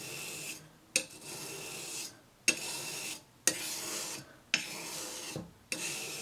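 A wood plane blade is drawn back across a flat sharpening stone in about six slow, even rasping strokes. Each scrape is separated by a short pause and sounds close and dry, with no voice.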